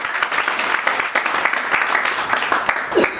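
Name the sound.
audience applause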